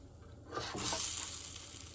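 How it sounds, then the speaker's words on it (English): A spinach and mushroom quesadilla sizzles as it grills in a pan, a soft fry that swells after a brief quiet start and then holds at a gentle, close hiss with no talking. "Now we are going to keep this one to grill."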